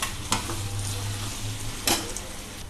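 Mutton with ginger garlic paste is stirred in a sizzling frying pan, a steady close fry with two sharp scraping strokes of the spoon across the pan.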